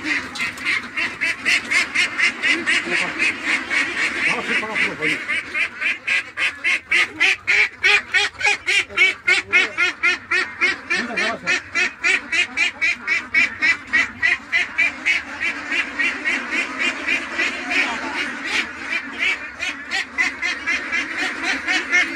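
A flock of domestic ducks quacks loudly and continuously as someone tries to catch them, with a dense, rapid stream of nasal calls close by.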